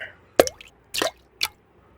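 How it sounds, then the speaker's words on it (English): Water dripping from a faucet left not fully turned off, three separate close drops landing with sharp wet plinks and plops at uneven intervals against a quiet background. "When the water is falling in small drops, we call it drip."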